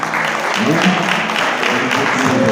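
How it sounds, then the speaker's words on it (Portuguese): Church congregation at a communion service applauding, a brief burst of steady clapping with a voice speaking over it. "Vamos dar um aplauso ao Senhor pela vida desses irmãos"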